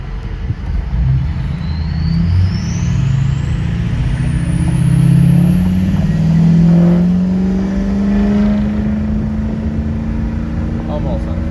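A Ford 6.0 Powerstroke diesel pickup truck accelerates moderately, its loud engine rumble rising and falling in pitch from inside the cab, with a whistle-like turbo tone above it.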